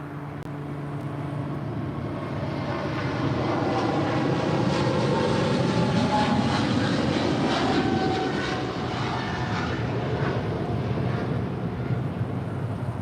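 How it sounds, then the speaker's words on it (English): An Airbus A320neo jet airliner on Valaris flight 4330 from San Salvador coming in to land at LAX, a loud sustained engine roar and whine that builds and peaks midway, then holds steady as it passes. "And Valaris flight 4330 coming in from San Salvador in this A320neo."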